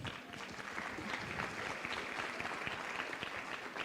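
A round of applause from the crowd at a brand awards launch event in Kenya, a continuous dense patter of clapping at a moderate, somewhat distant level with no speech.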